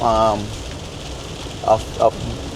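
Steady rain and windshield wipers on a moving van, with a constant broadband wash and road rumble throughout and a few short vocal bursts over it.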